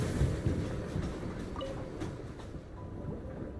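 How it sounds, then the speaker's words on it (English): A train pulls into a stop in the video game Genshin Impact, a rumbling roll of wheels with a faint screech, starting louder and easing off as it settles. "Automatically calls the nearby train with the stop"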